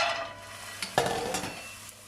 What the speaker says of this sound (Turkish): Bademleri kavuruyorum. Şöyle hafif kızarana kadar yağsız.